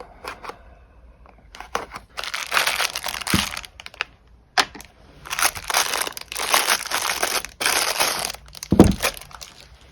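Cardboard and plastic packaging crinkling and crushing as a mystery knife box from MTech is opened, with bursts of rustling and tearing close by separated by brief pauses.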